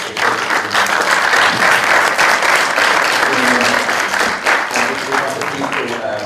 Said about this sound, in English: I really want to give another really warm round of applause